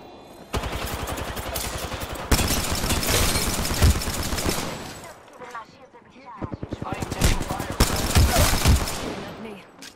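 Sustained automatic gunfire in Apex Legends rattles loud and close in long bursts. It drops out briefly midway and then resumes with rapid shots, while voices speak over it.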